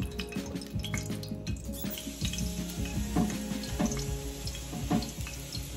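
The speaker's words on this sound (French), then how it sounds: "Là, je lave notre riz" Rice washed by hand in water, with steady close sloshing and swishing as the grains are rubbed and stirred, alongside hot oil heating in a kitchen.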